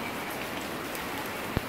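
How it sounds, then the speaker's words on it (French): Heavy morning rain in Laos falls in a steady, dense hiss with one brief louder drop near the end, and no voices. "c'est la grosse pluie le matin."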